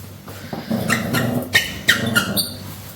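A friendly dog on a trip in Spain makes close, loud vocal sounds, a run of short grumbling yelps and whines in quick succession with no talk over them.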